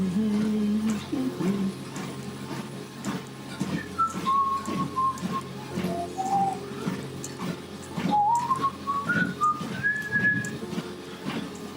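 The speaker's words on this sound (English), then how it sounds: "What's that I'm whistling?" A person whistles a signature tune from an Irish radio show, a clear, wavering melody of sustained notes that rise and fall with short pauses, heard close up over a faint steady hum.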